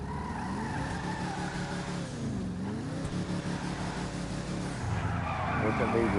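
A lowrider car in GTA 5 driving and skidding, engine droning with a long wavering tire screech that rises and falls, while someone talks over it.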